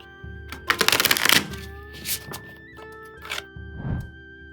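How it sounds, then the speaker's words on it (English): A deck of anime-style tarot cards is shuffled close up, with a fast riffling burst followed by a few softer shuffles and taps. "Cards shuffle really well."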